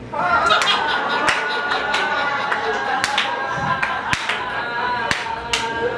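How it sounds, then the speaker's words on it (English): Audience at a roast battle comedy event gives a slow clap, sparse sharp claps spaced about a second apart over steady crowd murmur and talk. "nice slow clap for Special Ed Sharon."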